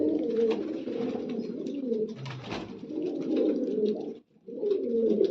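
Pigeons, a soldier's large breed among them, coo in low, throaty rolling calls that repeat almost without pause nearby, broken by one brief gap before the cooing resumes.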